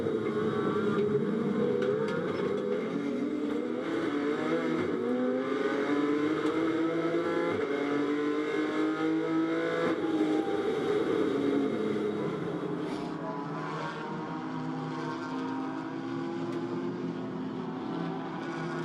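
GT4 race cars at Hockenheim circulate together behind a safety car, a continuous loud engine drone that rises and falls as the pack passes, with no speech.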